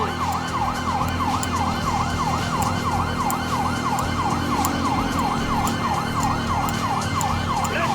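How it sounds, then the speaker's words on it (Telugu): A police siren in GTA 5 wails in a steady, loud, repeating up-and-down sweep over constant traffic and engine rumble, with no talk over it. "సైరన్ వినిపించాలి, కొంచెం దగ్గరికి వెళ్దాం"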